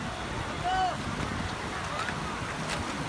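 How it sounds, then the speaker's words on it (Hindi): Cold wind blows steadily outdoors at the Harnoi amusement park near Abbottabad, a constant broadband rush with a faint whistling tone partway through, and no one talks over it. "बहुत ठंडी हवा चल रही है"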